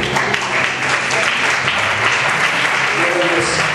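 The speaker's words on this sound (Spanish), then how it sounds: "Denle fuerte el aplauso." Church congregation clapping for God at an evening service, dense and sustained throughout, with voices and shouts mixed in under the steady applause.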